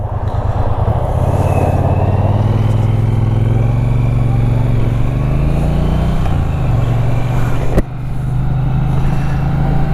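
A 2018 Triumph Bonneville being ridden, its engine a loud, steady close drone with rising and falling pitch as it accelerates and shifts, one brief dip partway through, and no speech.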